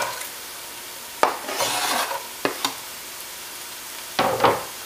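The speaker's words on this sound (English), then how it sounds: "So now I'm going to add the garlic." Chopped garlic goes into onions cooking in a pan, where a light sizzle sits under a few sharp utensil scrapes and clanks and bursts of louder frying.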